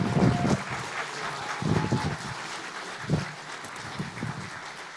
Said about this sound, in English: So a big round of applause to Luke Caverns.